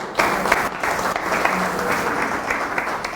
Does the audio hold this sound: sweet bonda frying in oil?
no